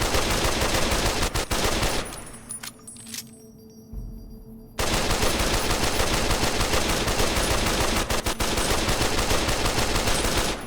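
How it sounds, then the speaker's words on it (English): Weapon fire in the video game Fallout New Vegas, a loud sustained stream of rapid shots that breaks off for about three seconds and then resumes just as densely to the end. "Because it was actually slower firing than this, and this is not a particularly fast firing weapon."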